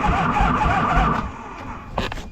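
A Harley Davidson motorcycle engine, bought cheap and being revived, cranks over with a loud, continuous rough churning that fades down partway through, followed by a faint clunk near the end.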